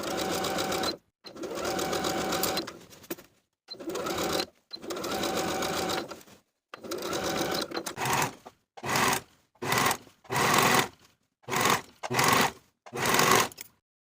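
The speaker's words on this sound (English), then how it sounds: "Sew the sleeve into the armhole with a 3/8 inch seam allowance" A sewing machine stitches a jumpsuit sleeve into the armhole in repeated runs, long bursts at first, then shorter, quicker bursts separated by brief pauses, close and clear.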